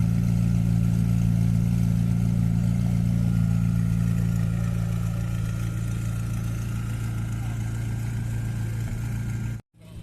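Low, steady idle from a McLaren 600LT at an outdoor car meet, a constant deep rumble with a faint clatter, cutting out abruptly near the end.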